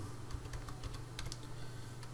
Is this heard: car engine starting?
no